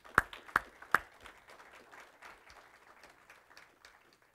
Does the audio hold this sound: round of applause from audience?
yes